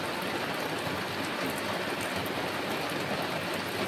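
Rain falling at night, a dense, steady hiss of drops that stays even and unbroken throughout, with no voices.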